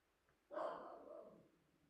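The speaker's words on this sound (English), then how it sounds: "Can you guys hear the dog barking?" One faint dog bark comes from indoors, short and muffled as if from another room, then trails off into quiet.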